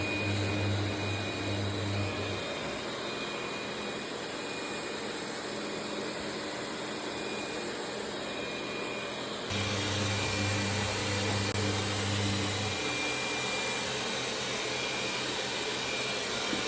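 A Xiaomi X20+ robot vacuum cleaner runs its first vacuuming pass, giving a steady, close whirring drone with a low motor hum that holds evenly throughout, with no talk.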